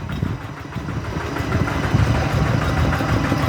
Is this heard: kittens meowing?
no